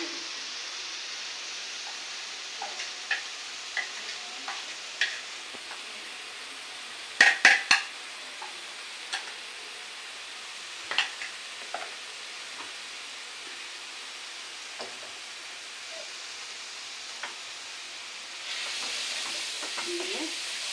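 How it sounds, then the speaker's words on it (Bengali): Turmeric, salt, coriander and chilli powder frying in hot oil, a soft continuous sizzle broken by scattered scrapes and clinks of a spoon stirring against the pan, with a brief louder clatter partway through. "নাড়াচাড়া দিয়ে ভাজি ভাজি করে কষিয়ে নিচ্ছি।"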